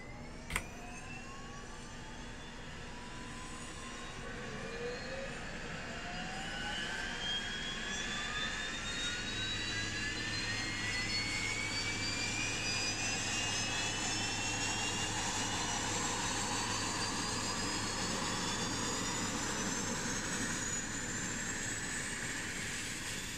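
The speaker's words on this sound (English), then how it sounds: "get back to the cockpit and start engine" Number 1 engine of a simulated FlyJSim Dash 8 turboprop in X-Plane 11 spools up from a click into a climbing whine that builds and settles into a steady, fairly faint turbine roar with no voices.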